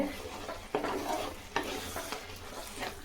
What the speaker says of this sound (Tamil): இந்த தக்காளி ஊற்றி நல்லா வதக்கணுங்க